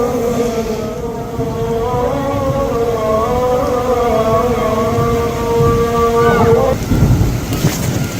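Heavy rain pours at Masjid al-Haram in Makkah as a dense, continuous wash of noise, overlaid for most of its length by a loud, sustained, wavering tonal call that stops near the end, leaving the downpour alone.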